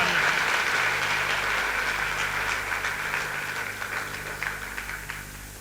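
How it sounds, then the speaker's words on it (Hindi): Audience applause at a motivational leadership talk, a steady dense patter of clapping that holds throughout and slowly fades toward the end, with a low hum underneath. "आप सभी के लिए एक बार जोरदार तालियां।"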